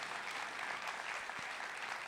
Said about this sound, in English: One big round of applause for all the people who helped.